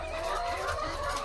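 Laying hens in a small farm flock, being fed late, give a continuous low clucking chorus of overlapping calls at moderate level, with no talking.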